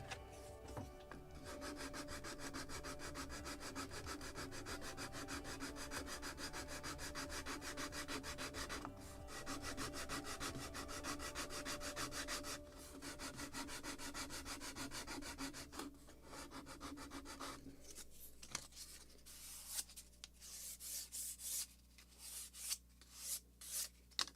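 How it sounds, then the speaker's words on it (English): Sanding wooden planks on the hull of a model gunboat, a steady close rubbing rasp in long continuous strokes, then shorter irregular scrapes near the end, quiet with no talking. "So my arrow is already much closer, but I still have to sand"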